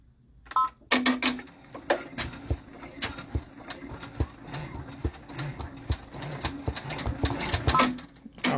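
A Brother PR655 six-needle embroidery machine stitching, with rapid repeated mechanical clacks and thumps from close by and faint background noise.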